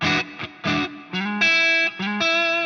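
A distorted electric guitar plays a short bluesy lick over an E dominant seventh chord, sustained bent notes and quick phrases ringing loud and close with effects.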